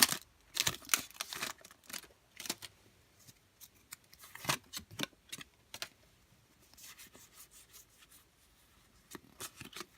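A Pokémon card booster pack being torn open by hand, faint crinkly foil rustles and sharp tearing bursts, irregular and close, alone without talk.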